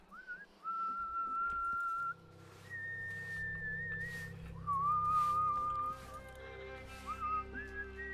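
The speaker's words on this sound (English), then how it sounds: "but you're whistling" A character whistles a wavering tune in Dishonored: Death of the Outsider, several sustained notes rising and falling over a low game ambience, clear and fairly close.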